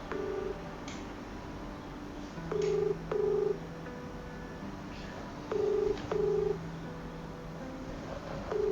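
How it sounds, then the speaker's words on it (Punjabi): A telephone ringback tone repeats in paired bursts, several cycles with no answer, over a quiet background hum. "ਬੈਲ ਜਾਂਦੀ ਆ ਚੁੱਕਦੇ ਨਹੀਂ"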